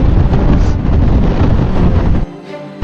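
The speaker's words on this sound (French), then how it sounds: "Les vagues de vent qui nous arrivent dessus" Strong wind gusts buffeting a motorbike rider on an open road during a long-distance ride toward Mongolia, a loud roaring rumble of wind against the microphone that cuts off abruptly near the end.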